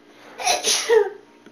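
A single sharp sneeze up close, a quick breathy intake bursting into a loud noisy expulsion, heard during a basketball video game session.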